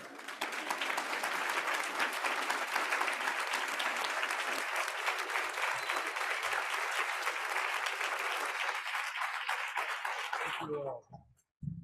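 A conference audience gives Chicago Mayor Brandon Johnson a sustained round of applause that fills the room for about ten seconds, then breaks off abruptly into near silence.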